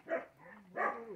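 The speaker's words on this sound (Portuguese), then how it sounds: "Eles estão latindo com o quê?" Two short, muffled barks from dogs at a cattle corral in the morning, fairly faint and spaced apart, with a brief whine between them.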